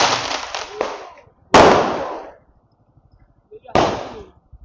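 Firecrackers burst at a New Year celebration, with a quick crackling string followed by two sharp, loud bangs, each trailing off in a short echo, heard close with quiet gaps between.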